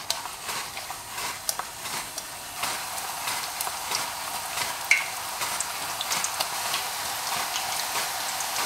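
Plantain chips, sliced at an angle, frying in hot oil with a steady broadband sizzle throughout, crackling and popping in small bursts, close and fairly loud with no talking.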